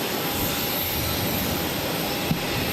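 A jet airliner rolls for takeoff on runway 22 right at Boston Logan, a steady broad engine roar heard from a distance without pause, with a single faint click partway through.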